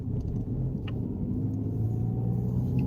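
A Dodge Dart's engine rumbles at a low, steady idle while driving, heard from inside as a continuous close drone without revving.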